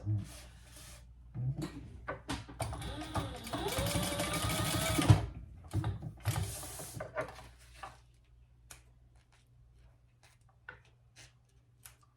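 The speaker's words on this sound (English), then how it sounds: "Now we're just going to baste both of those in place." A sewing machine bastes fabric pieces of a small sling pouch in place, whirring in a few short bursts and one longer run, with clicks and handling sounds between stitches while a person speaks nearby.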